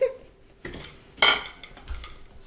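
Cutlery scrapes and clinks against a dish while mixing elf-themed dessert spaghetti, with a few sharp metallic knocks among softer stirring sounds, close and sparse.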